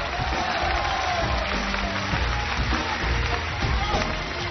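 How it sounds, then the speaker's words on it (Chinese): Studio audience applause on a Chinese TV variety show, a dense, steady wash of clapping that fills the room for several seconds at an even level. "掌声。"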